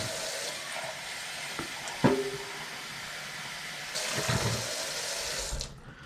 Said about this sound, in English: So I'm gonna rinse this out.